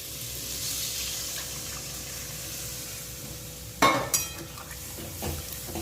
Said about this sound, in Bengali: গরম জল